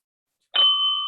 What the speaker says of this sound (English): And here's our bell.